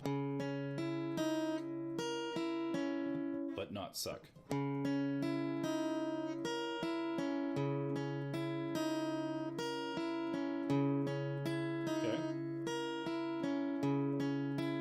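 A guitar plays a flowing arpeggiated riff, notes ringing and overlapping in a steady rolling pattern, with a brief muffled knock partway through.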